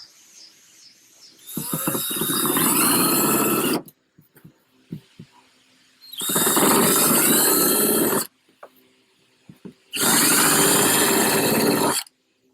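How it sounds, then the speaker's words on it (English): A power drill runs in three loud bursts of a few seconds each, whining and grinding through pilot holes while installing a River Stick on a Jackson Cuda 12 kayak, with quiet clicks and handling noises between. "you want to drill where those pilot holes are"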